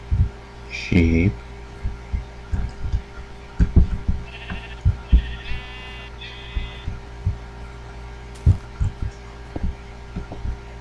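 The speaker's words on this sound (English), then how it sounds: "Sheep." Sheep in Minecraft bleat in short high bursts between thumping low knocks and a steady background hum, with a few brief bleats spread through the clip.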